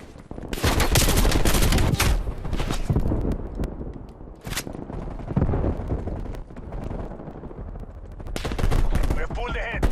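Rapid automatic gunfire from a Warzone team deathmatch, loud and dense, with sustained bursts and sharp cracks through most of the stretch, dipping briefly midway before heavy firing resumes.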